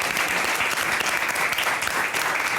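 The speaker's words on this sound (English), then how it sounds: "If we can get a big round of applause for Jane for coming on and sharing her story." A studio audience on a talk show gives a steady, dense round of applause for a guest, close and continuous for the whole stretch with no talking over it.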